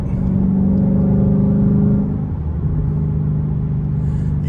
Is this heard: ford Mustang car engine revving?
yes